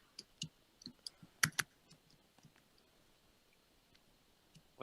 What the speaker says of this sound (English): So I'm going to finish typing here.